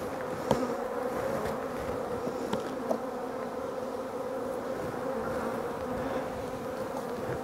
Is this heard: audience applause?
no